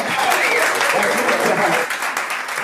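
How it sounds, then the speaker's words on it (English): Loud, sustained crowd clapping follows a cup and ball magic routine, steady for the whole stretch with a few voices rising above the applause. "Please hold your applause"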